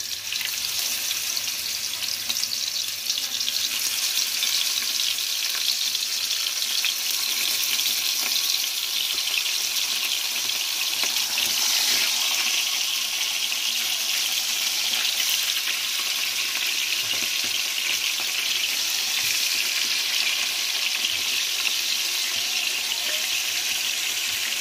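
Rohu fish fries in very hot oil in a frying pan, a loud steady sizzle that runs unbroken for more than twenty seconds, with no one speaking.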